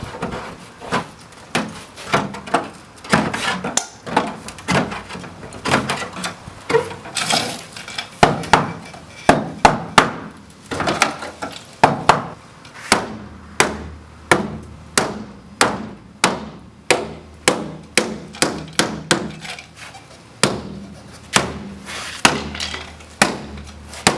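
Sharp metallic knocks and clanks ring out at an irregular, then steadier rhythm while a cut vehicle body panel is pried out for fitting over fenders, loud and close with no voices.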